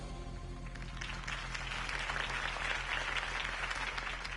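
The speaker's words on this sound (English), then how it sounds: "could have heard that applause" A crowd in the video game Batman: The Telltale Series applauds with dense, steady clapping that swells slightly and holds, heard from a moderate distance with a low hum underneath.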